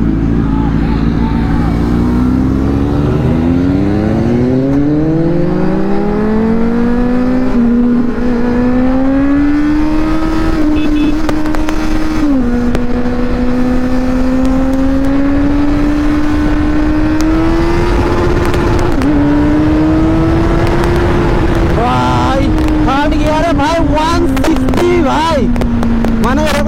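A Kawasaki Z900 and a Benelli 600i superbike fly past, with loud engine roar rising in pitch as they accelerate through the gears, staying close and dominant throughout, with a voice talking underneath.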